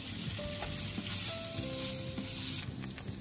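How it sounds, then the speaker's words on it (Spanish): Chorizo frying in a thin layer of leftover bacon fat, giving a loud, dense, crackling sizzle close up with occasional pops and scraping from stirring, and no voices. "Así que solo dejé un poquito para freír los chorizos."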